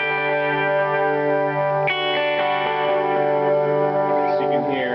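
Diamond Memory Lane delay pedal set with its decay EQ turned down for a dirty, gritty tone, carrying a sustained chord-like wash of repeats that shifts partway through, steady and fairly loud with no talking.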